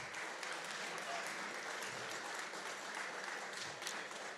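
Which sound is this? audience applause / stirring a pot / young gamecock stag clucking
audience applause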